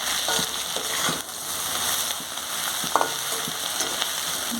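Chow mein stir-fries in a hot pan with cumin, coriander and pepper, sizzling steadily up close while a spatula scrapes and taps the pan in irregular strokes, with no talking.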